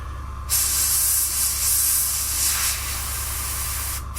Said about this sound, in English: Apologies for the compressor kicking in.